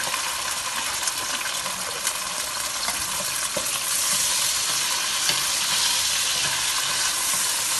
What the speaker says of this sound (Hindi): अब हम इसमें भिंडी डाल के इसको फ्राई करेंगे